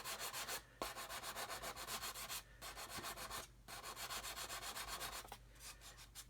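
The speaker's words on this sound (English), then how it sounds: "Don't be afraid to use coarse sticks. You know, get in there and get the stuff sanded down." Coarse sanding sticks rubbed hard against a plastic model kit surface, a steady run of close, rhythmic scratchy strokes with a few short pauses.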